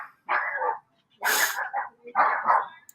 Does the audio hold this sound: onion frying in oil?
no